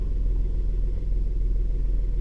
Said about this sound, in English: And the car comes to life.